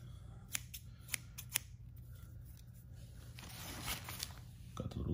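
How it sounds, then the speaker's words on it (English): Hair-cutting scissors snip and click several times in quick, close bursts, followed by rustling and handling noises. "Got the scissors."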